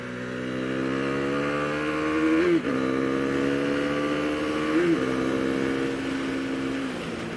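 Husqvarna Vitpilen 401 motorcycle engine revving hard above 7,000 RPM, a loud close howl holding high pitch with two brief dips at gear changes and wind noise underneath.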